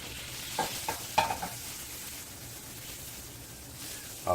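An egg fries in butter in a Red Copper pan, making a faint, steady sizzle and hiss with a few soft clicks and spatters scattered through it.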